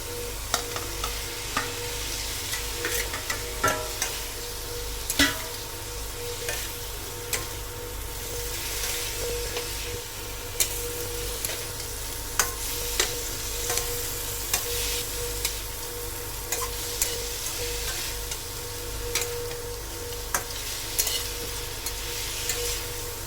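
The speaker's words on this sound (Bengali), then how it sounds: "এবারে ডিম আর আলুটা দিয়ে দেবো।" Eggs and potatoes frying in curry, a steady close sizzle running throughout with occasional light clicks and scrapes of stirring, no talking.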